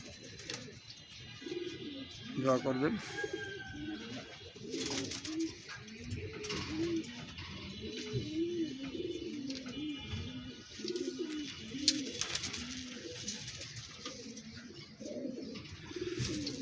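Pigeons in the Alif Pigeon Loft coo in a steady run of soft, repeated, rolling calls close by. A voice speaks briefly in the background.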